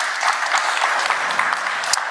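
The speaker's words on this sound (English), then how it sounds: "and a big round of applause" A conference audience claps steadily throughout, producing a dense, fairly loud wash of applause with no clear speech over it.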